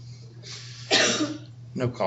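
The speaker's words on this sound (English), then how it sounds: "No coughing in class." A couple of short coughs ring out in a classroom, the first louder and harsher, followed by a quieter cough or throat clearing.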